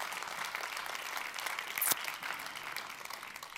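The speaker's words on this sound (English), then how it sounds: "So another clapping, please." Audience applause at a media prize award ceremony: a steady wash of many hands clapping, moderately faint and distant in a large hall, with one sharp louder clap near the middle.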